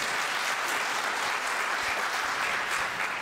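A large audience gives a dense, steady round of applause at a maritime talk, loud and continuous throughout with no voices over it.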